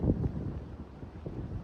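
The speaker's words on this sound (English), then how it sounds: "It's a very windy day" Gusty wind blows on a very windy day at an outdoor building site where a string line is set, buffeting the microphone in low, uneven rumbling pulses over a brief moment, with no talk.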